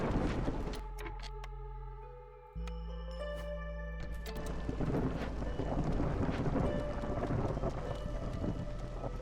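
In the video game Against the Storm, a storm brings continuous rain and deep rolling thunder, joined by a low steady drone and tonal game effects, the rumble swelling after a brief dip.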